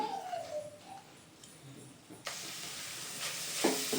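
Grated carrots fry in ghee with a soft, steady sizzle and occasional stirring; the hiss grows louder and brighter partway through and continues unbroken with no talk.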